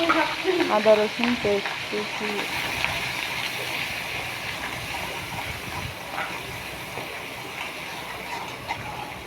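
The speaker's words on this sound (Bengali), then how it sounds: "এখন আবার আগের ভাজা তেলগুলোতে দিয়ে দেব দারচিনি, এলাচ, লং আর আদা রসুন পেস্ট" Cinnamon, cardamom, cloves and ginger-garlic paste sizzle in oil left from frying chicken and potatoes, a steady, close crackling hiss with light stirring throughout.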